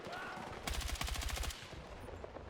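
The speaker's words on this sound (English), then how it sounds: "where all the gunfire is" Battlefield 6 gunfire on the Iberian Offensive conquest map: a rapid automatic burst lasting under a second, fairly distant and muffled, followed by lingering ambient battle noise.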